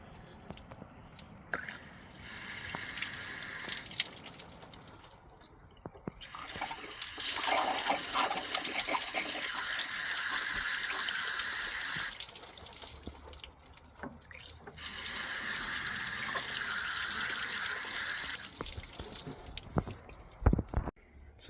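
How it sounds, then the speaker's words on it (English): Water flushing through a car heater core during cooling system work, a steady rushing flow that surges in long loud stretches, breaks off briefly and returns, heard close and alone. "I flushed the heater core all the way out."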